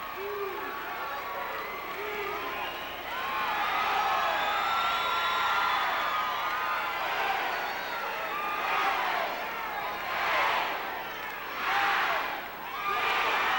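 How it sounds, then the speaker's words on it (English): A wrestling arena crowd chants and roars in unison as it picks up the referee's count, a loud sustained din with rising rhythmic bursts of cheering toward the end. "You heard the crowd as they picked up the count."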